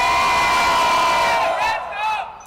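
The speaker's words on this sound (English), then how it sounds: "Team Eagle supporters, can you make some noise?" A crowd at a live gaming event cheers and whoops loudly together in a sustained burst that swells, fades and rises briefly again before dying away.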